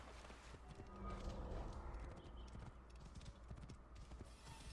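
Horse hooves clip-clop at a steady riding pace in the Assassin's Creed Origins video game, faint rhythmic thuds over a low ambient game backdrop.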